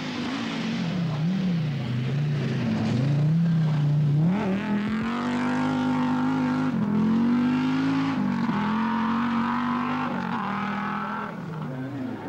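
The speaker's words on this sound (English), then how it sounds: "Stig Blomqvist was giving his usual spirited display in the four-wheel drive Ford Sierra. And Per Eklund, another Swedish expert, in the Audi Quattro." Four-wheel-drive rally cars, a Ford Sierra and an Audi Quattro, at the 1987 Rally of Sweden, their engines droning loud and steady with rising and falling revs as they drive past.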